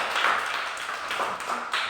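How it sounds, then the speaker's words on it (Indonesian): A classroom of students claps for a group, a brisk patter of hand claps swelling in short waves, fairly near and steady. "Oke, tepuk tangan untuk kelompok 2."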